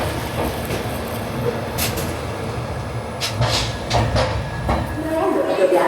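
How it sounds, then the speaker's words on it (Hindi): An express train pulls into Bhusawal Junction station, a steady loud rumble of wheels and carriages with brief clanks, under continuous station bustle and nearby talk. "तीन बजकर 48 मिनट पर हमारी ट्रेन पहुंची है भुसावल जंक्शन।"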